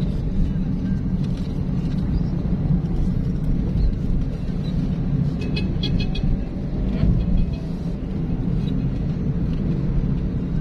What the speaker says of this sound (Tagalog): sobrang traffic. Kasi may ginagawa pong daan.